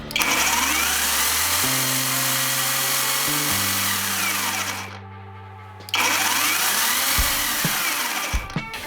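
YamaMoto battery-powered cordless saw running at a loud, steady motor whine, dropping briefly to a lower hum before spinning back up to full speed, close to the listener.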